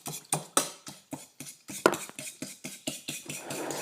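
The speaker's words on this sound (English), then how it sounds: "I will use the fork just to make sure I melt the yeast" A fork stirs fresh yeast to melt it in a bowl, striking the sides in a steady run of about a dozen quick, close clinks and scrapes with no talk.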